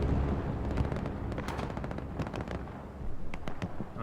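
Overhead flare bursting during a Hell Let Loose match, a dense, loud crackle of sharp popping transients over a rumbling roar that flares up again toward the end.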